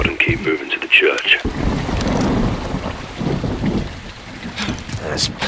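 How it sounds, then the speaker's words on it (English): Heavy rain pours steadily with a low rumble of thunder and wind in the video game Modern Warfare II, and a few faint voices rise briefly over the storm. "It's raining fucking hard."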